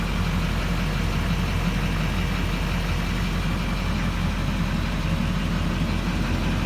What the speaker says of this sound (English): This is a highly desirable truck with the very desirable LBZ engine.